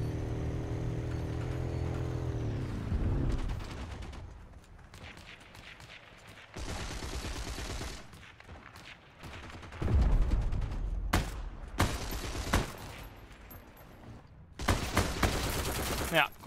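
Gunfire in the World War II shooter Heroes & Generals: single loud shots and short bursts from an M1 Garand and other weapons crack out in bunches between quieter stretches of in-game ambience, with some talk mixed in.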